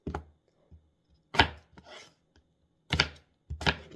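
A knife chops through potato into squares on a cutting board, giving several sharp, close thuds in uneven bursts, with quiet pauses between them.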